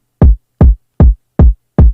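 Main kick drum in a drum and bass mix, EQ'd for punch without compression: five evenly spaced, deep, solid thumps, each short and tight, standing alone.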